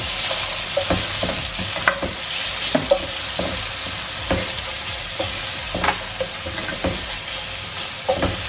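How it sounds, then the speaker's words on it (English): Chopped onions frying in a pan over medium heat, a loud continuous sizzle with periodic stirring clicks and scrapes, no talking. "So I'm just going to cook the onions on medium heat"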